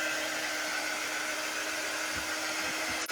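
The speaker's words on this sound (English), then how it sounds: "I'm going to give this a quick dry." A hair dryer quickly drying paint on a door tag, blowing with a steady, loud, close whoosh that holds throughout and cuts off right at the end.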